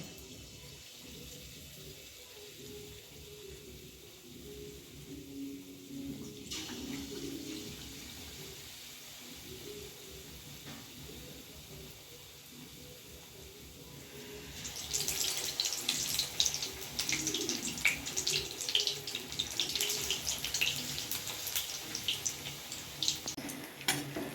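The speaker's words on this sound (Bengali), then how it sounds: "তেলটা গরম হয়ে গেছে এখন আমি ব্যাটার মধ্যে ফুলকপিগুলো চুবিয়ে এক এক করে ছেড়ে দেবো" Batter-dipped cauliflower pakoras frying in hot oil: a quiet bubbling at first, then a louder, crackling sizzle swells in partway through and continues close by with no talking.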